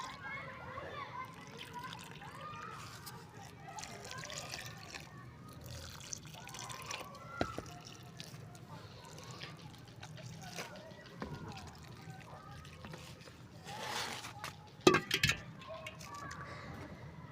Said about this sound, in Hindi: अभी दे दिया है इनको मैंने पानी